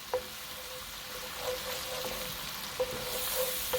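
A sauce with alcohol sizzles and cooks down in a pan, giving a steady hiss with a few clinks from stirring and no talking.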